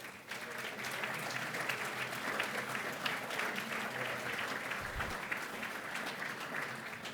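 A crowd applauds steadily and continuously at an apprenticeship awards ceremony as a presenter is invited to the stage, the clapping dense and sustained throughout at a moderate level.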